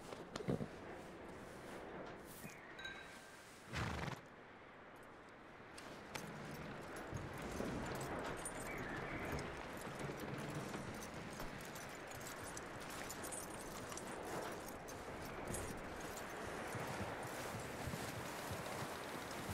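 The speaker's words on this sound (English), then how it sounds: "That looks like a decent horse." A horse's hooves clip-clop steadily on the ground in Red Dead Redemption 2, a continuous, fairly close rhythm under rustling ambience, after a brief louder burst near the start.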